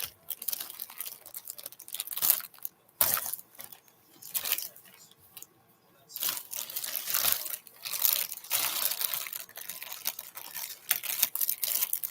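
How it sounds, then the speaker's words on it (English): Plastic bags from a beauty-product shopping haul crinkle and rustle in irregular bursts close by, with short quiet gaps between handlings. "All these plastic bags."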